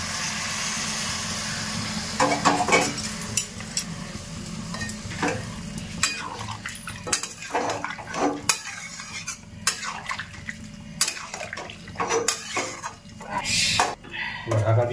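Hot water goes into frying spice masala for a jackfruit and potato curry, followed by a steady sizzle and repeated clinks and scrapes of a metal spoon against the pot, close by.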